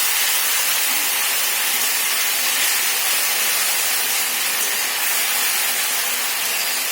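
Spices frying in oil in a home kitchen, a loud, steady sizzling hiss that stays even and continuous for several seconds with no pauses or voices.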